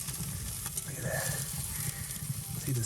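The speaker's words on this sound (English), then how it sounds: "See the sizzle?" Steady frying sizzle of prime rib in an Old Country Pecos smoker, with a soft crackle of fat and drippings, close by, continuing throughout with faint background noise and no talking.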